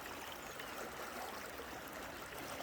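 Creek water flows steadily where the channel widens beside a river sluice, a continuous close rushing and trickling with no breaks and no voices.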